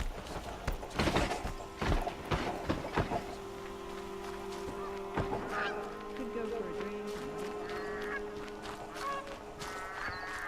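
Geese in the video game Horizon Zero Dawn honk in a burst of several loud calls, then fainter scattered honks over a steady ambient hum, with no one talking.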